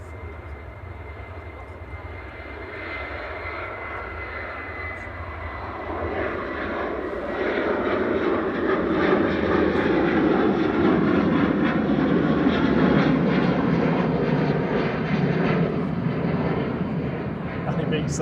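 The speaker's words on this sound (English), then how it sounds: "Flight 3222 to Brussels Charleroi, departing now for Ryanair." Ryanair jet airliner departing Manchester Airport, a broad engine roar that swells from moderate to loud around the midpoint and holds steady, with talk over it.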